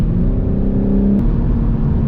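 A late-model BMW M3 engine accelerates hard, a loud, steady rising drone with a brief shift break partway through, up close with no talking.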